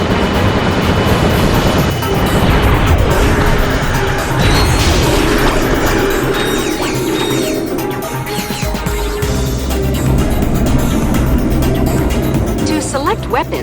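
Explosions from a nitro launcher hitting a vehicle in Ratchet & Clank: Up Your Arsenal, loud crashing blasts and rumbling debris layered with game music and effects across the whole stretch.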